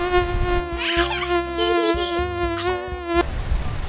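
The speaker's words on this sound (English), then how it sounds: "They are tiny insect but known for their itchy bite and their buzzing sound." A mosquito's wings buzz in a thin, steady, high-pitched whine for about three seconds. The tone wavers slightly in pitch, with faint background noise around it.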